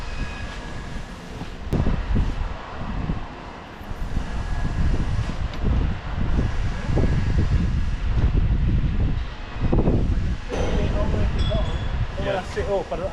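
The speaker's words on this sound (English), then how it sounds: "It's quite windy, and to be fair, this is staying pretty stable." Wind gusts buffet a Tentbox Cargo rooftop tent mounted on a V10 VW Touareg. The roar is loud and rumbling and rises and falls in waves, with occasional faint clinks and voices underneath.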